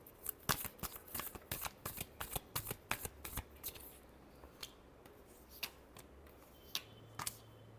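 Tarot cards being shuffled by hand, a run of crisp riffling slaps and flutters coming in quick bursts, then thinning to a few scattered taps near the end, close and fairly quiet with no talking.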